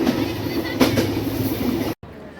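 The Ruposhi Bangla Express passenger train rumbles steadily along the tracks after leaving Jessore Junction, a low, continuous roar and faint rhythmic clatter, cutting off abruptly near the end.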